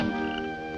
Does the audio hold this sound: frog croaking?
yes